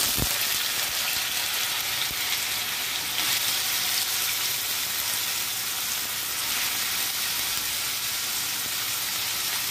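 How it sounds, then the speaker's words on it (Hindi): Taro root pieces frying in hot oil, a loud, constant, dense sizzle that holds steady for the whole stretch after a brief knock at the start, close up with no one speaking. "ये तेल हमारा गरम हो चुका है, इसमें हम ये अरबी डाल देंगे।"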